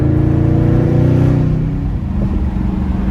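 Widebody Dodge Charger Scat Pack with straight-piped exhaust, a loud, close V8 rumble held high and then dropping off to a rough, burbling idle.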